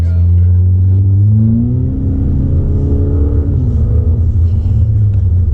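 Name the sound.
modified car engine revving and accelerating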